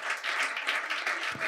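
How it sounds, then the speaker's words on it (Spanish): A brief burst of studio audience applause on a Spanish comedy talk show, quick pulsing claps at moderate loudness lasting only a moment. "Un aplauso, por favor, a María."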